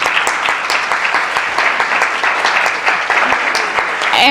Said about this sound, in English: Ladies and gentlemen in the audience, you may now applaud